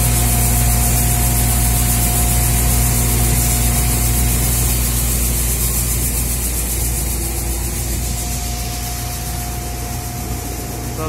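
Coin-operated rice mill machine in Japan running, a loud, constant rushing and grinding drone with a steady mechanical hum beneath, easing slightly toward the end, without speech.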